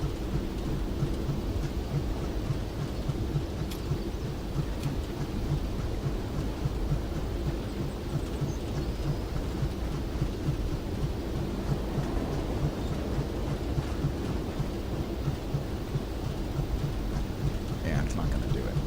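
Steam locomotive engine on a Disneyland Railroad simulator game, a continuous low rumbling chuff with a steady mechanical drone and faint hiss, running without a break and at an even level.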